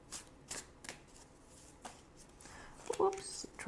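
Soft flicks and rustles as tarot cards are handled and drawn from a deck, a handful of quiet, close card snaps spread over a few seconds with brief background noise.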